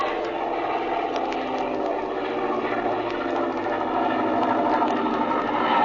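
A 1937 radio-drama airplane engine at about half throttle drones steadily and evenly, a dense, rough mechanical roar holding constant throughout with no pauses.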